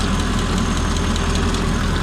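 High-mileage Mercedes-Benz engine, around 400,000 miles with a past injector problem, running steadily with a deep, continuous low rumble and rhythmic mechanical knock, heard up close without talk.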